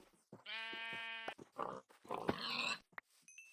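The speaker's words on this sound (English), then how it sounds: "Here there's a bunch of sheep." Several Minecraft sheep bleat in quick succession, wavering and nasal, fairly close, with short gaps between calls and a faint high electronic tone near the end.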